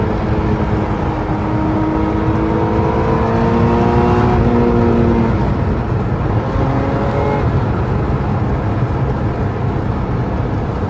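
Radford supercar accelerating hard in third gear, a loud steady engine drone with rising tones as revs climb, heard from inside the car.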